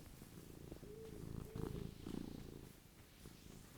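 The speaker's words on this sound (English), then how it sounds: "She's already purring, though." A cat purrs quietly and close to a microphone, a soft rhythmic rumble rising and falling over several breaths.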